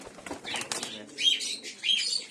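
Pigeons in a loft, Giribaz and Madrasi breeds, flap their wings at evening feeding in several quick bursts of clattering wingbeats, close and moderately loud, with faint soft bird calls.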